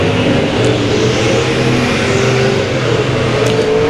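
Race cars roaring around the dirt oval at Boothill Speedway, a loud continuous engine drone with throttle surging as cars pass, steady and close with no talk.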